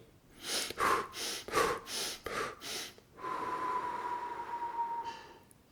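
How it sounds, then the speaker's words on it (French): Rapid, forceful breathing exercise: about six short, rhythmic breaths in and out close to the microphone, followed by one long, steady exhalation. "20 à 25 inspirations, expirations courtes, suivies d'une longue expiration."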